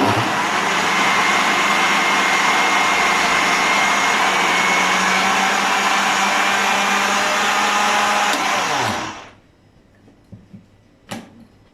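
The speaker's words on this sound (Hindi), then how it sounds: "चीनी डाल देंगे, इसको अच्छे तरीके से 2 से 3 मिनट के लिए ब्लेंड कर लेंगे।" A kitchen blender whirs steadily as it blends mango pieces with sugar in a blending jug, a loud continuous motor roar that runs for about nine seconds, then cuts off and winds down, leaving a few small clicks.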